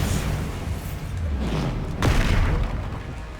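A Bombarda blasting spell detonates in Hogwarts Legacy, giving a single heavy booming explosion midway over a continuous rumbling game soundscape.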